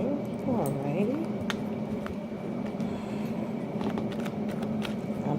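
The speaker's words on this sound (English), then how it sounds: "I'm still shuffling. I didn't look at the cards." Tarot cards are shuffled by hand for a card reading, giving a steady soft riffling and sliding texture with occasional sharp flicks, close up and moderately loud, with no voice heard.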